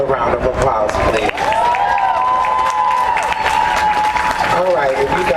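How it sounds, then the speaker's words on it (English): A crowd claps and cheers for Ms. Jessica at a Pride at the Polls event in Downtown Austin, with dense, continuous applause and a sustained high cheer rising over the clapping through most of the stretch. "Now give her another round of applause, please."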